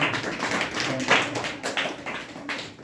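Children in a Sunday class clap in a brief burst of quick, uneven claps, fairly close and lively.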